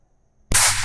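A single sharp gunshot cracks out of silence, close and loud, with a bright burst that rings on briefly afterward and no voices around it.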